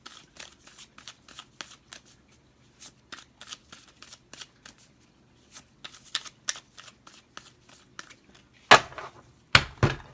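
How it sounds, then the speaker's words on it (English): Tarot cards being shuffled by hand for a reading, a string of crisp riffling bursts at an irregular, fairly steady rhythm that ends in two louder, fuller riffles close to the mic, with no voice over them. "we're going to shuffle 3 more times for you."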